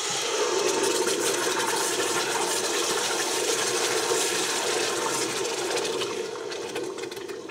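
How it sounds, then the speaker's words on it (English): Tomatoes pour into a pan of cooked garlic for a basic Italian tomato sauce, making a steady, close, continuous wet rushing and sizzling wash that holds level and eases slightly near the end, with no talk. "we can start adding our tomatoes"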